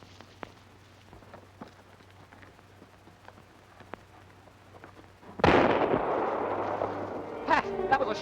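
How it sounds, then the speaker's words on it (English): After a long stretch of faint crackly quiet with scattered small ticks, a single loud gunshot bursts out in an old radio drama, its blast rolling on and decaying over a few seconds. "that was a shot"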